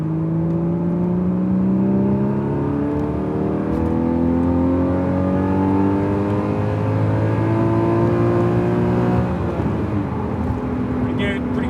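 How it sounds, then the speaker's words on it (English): Porsche GTS flat-six with PSE sports exhaust, heard from inside the cabin, pulling hard through the revs in a long rising drone, shifting, then climbing again, steady and fairly loud. "enjoy the sound of the GTS's flat six from inside the cabin"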